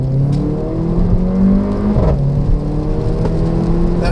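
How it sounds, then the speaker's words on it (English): A 2015 Mercedes-Benz GLA45 AMG in sport mode roars under acceleration, its loud exhaust note climbing steadily in pitch through the gears, heard close and continuous with no talking. "That exhaust is absolutely ferocious."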